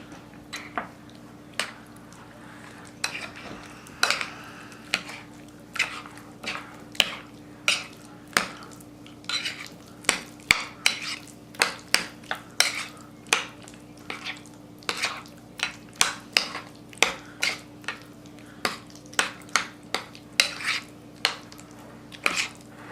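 Banitsa filling being mixed by hand in a bowl at home, giving a steady run of sharp clinks and scrapes of utensil against the bowl, close and fairly loud, with a faint hum beneath and no talking.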